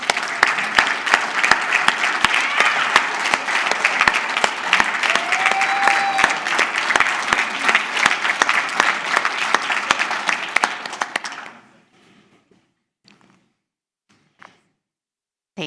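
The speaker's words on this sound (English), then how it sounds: "let's give them a round of applause" An audience at the 2022 VGM Awards ceremony gives a long, dense round of applause for the finalists, steady and close for about eleven seconds before cutting off into near silence with a few faint taps.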